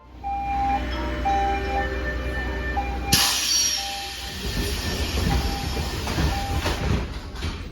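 A Seattle Center Monorail train runs steadily with a loud continuous rumble and hiss, while tonal whines rise and fall; a sharp swell of noise about three seconds in marks it gathering pace.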